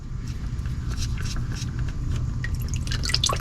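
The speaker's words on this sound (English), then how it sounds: "Got more oil coming out." Motor oil draining from a car into an oil pan, a steady close pour with a wet trickling and dripping texture that continues throughout.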